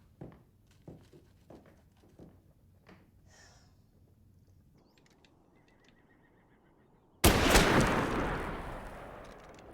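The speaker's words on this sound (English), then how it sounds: "You shouldn't be shooting at graves." Rifle fired at graves in an outdoor Western setting: a loud sudden blast near the end with a long rolling decay, preceded by faint footstep-like taps and quiet background.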